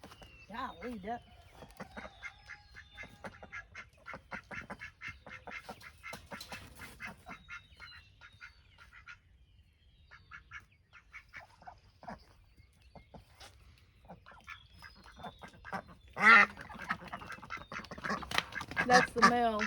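Ducks quack repeatedly at close range, a busy run of nasal calls with brief pauses and a louder, denser burst toward the end, with other bird calls mixed in.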